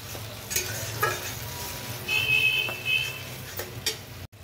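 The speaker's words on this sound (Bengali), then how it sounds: "এবারে অ্যাড করছি অল্প জল আর এবারে দিয়ে দেব বাটা মশলাটা" Ground spice paste with a little water goes into hot mustard oil with nigella seeds and slit green chillies. It gives a light, crackling sizzle broken by intermittent stirring scrapes, then cuts off abruptly.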